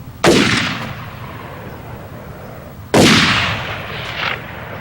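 Two loud gunshots, roughly three seconds apart, each a sharp crack with a long booming decay outdoors. A fainter echo follows the second shot.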